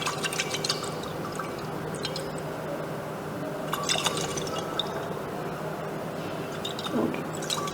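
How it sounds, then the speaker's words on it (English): Water with dissolved sodium carbonate sloshes inside a glass laboratory flask as it is shaken, a steady, moderately quiet liquid swishing with occasional small splashes and clinks. "shake it well, see that the salt is dissolved completely"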